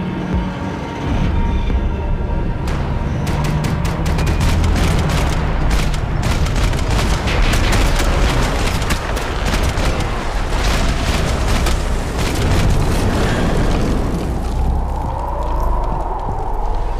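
Dense, loud gunfire and booming explosions from the Max Payne 3 video game, continuous heavy combat with rapid shots layered over rumbling blasts throughout.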